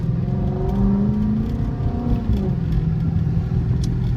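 Chrysler 300C with the 5.7 Hemi V8 engine revving while driving, a deep, loud, steady engine drone with rising pitch sweeps heard from inside the car, no talk.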